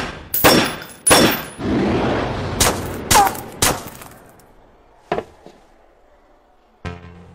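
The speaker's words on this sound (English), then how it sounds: "A grouping of three shots within 8 centimeters, all in the space of 2 seconds." Anime gunfire from a sniper sequence: several sharp, loud cracks fire in quick succession, then a few fainter, isolated shots follow after a pause.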